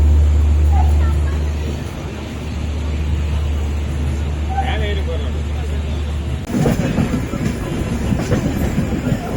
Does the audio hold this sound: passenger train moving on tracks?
yes